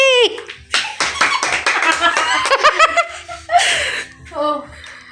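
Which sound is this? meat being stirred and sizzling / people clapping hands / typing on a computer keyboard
people clapping hands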